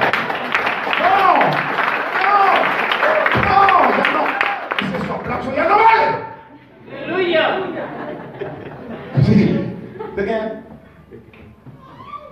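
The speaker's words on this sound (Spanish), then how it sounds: "ahora aplaudan" A church congregation claps and applauds in bursts that swell and fade, mixed with crowd chatter and a preacher's voice talking over and between the rounds of applause.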